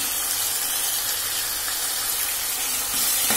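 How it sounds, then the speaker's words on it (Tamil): Ginger garlic paste sautéing in a pan for a quail gravy gives a steady, close sizzle and hiss that runs unbroken throughout and swells slightly near the end. "இஞ்சி பூண்டு பேஸ்ட், இதை போட்டு இதையும் நல்லா வதக்கி விடுங்க."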